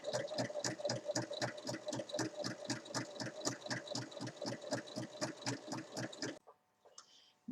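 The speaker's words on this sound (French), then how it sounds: "On commence à coudre sur une des extrémités." A sewing machine stitches a fabric band onto a visor, running in a fast, even rhythm of needle strokes for about six seconds before stopping, with faint handling sounds after it stops.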